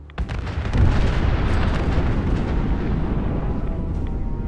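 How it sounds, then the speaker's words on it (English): A nuke detonating inside a base in a Fallout game, a loud sustained roaring blast that swells quickly and rumbles on steadily without fading, with no voices. "The Children of Adam can be wiped out by detonating the nuke inside their base."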